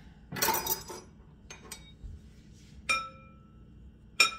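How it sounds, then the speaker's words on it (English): A knife cutting up butter on a dish, giving a few scattered, light clinks and taps of metal against the plate with quiet pauses between them in a calm kitchen. "cutting butter up like this"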